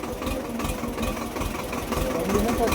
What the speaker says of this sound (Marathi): आपण या गाळातून ट्रॅक्टर काढले काढले पाहू शकतो